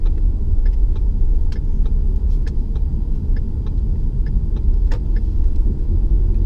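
A car driving past outside a movie theater, a close steady low rumble with scattered clicks and rattles throughout, no voices.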